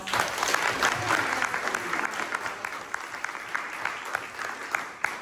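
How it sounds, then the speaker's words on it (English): Moderate audience applause at a Des Moines, Washington chamber of commerce gathering, scattered individual claps audible within a room-sized crowd, gradually thinning toward the end. "Let's give those board members for the Chamber and Traci a big round of applause."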